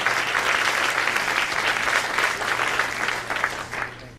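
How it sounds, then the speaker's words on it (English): Audience applause for state representatives and a county commissioner at a public forum on a south suburban trauma center, steady and dense for about four seconds before tapering off, with a low steady hum underneath. "give them a round of applause"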